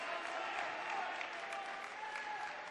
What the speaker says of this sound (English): This crowd now getting involved, making some noise, encouraging their team